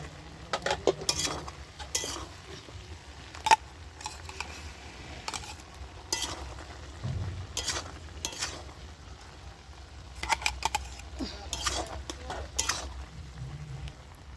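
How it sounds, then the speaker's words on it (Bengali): A spoon stirs a papaya and potato curry with ground spice paste in a pot, making scattered scrapes and metallic clinks over a faint sizzle, close and irregular. "ঢাকনাটা খুলে এবার আমি একটু নেড়ে দিচ্ছি।"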